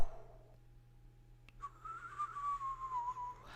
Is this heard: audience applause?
no